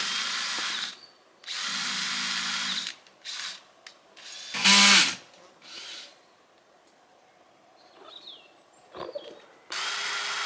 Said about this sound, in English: I'm going to drill into the side of the solar panel